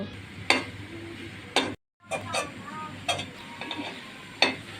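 Jute leaves hit a hot wok and cook while their water dries off. A soft sizzle runs underneath sharp, intermittent clacks and scrapes of stirring, with a brief pause partway through.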